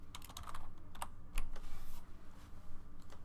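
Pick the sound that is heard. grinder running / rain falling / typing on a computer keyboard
typing on a computer keyboard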